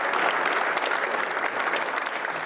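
Sustained crowd applause at a formal Italian state event tied to the Italy-France cooperation treaty, an even, dense clapping texture from a large gathering, moderately loud throughout.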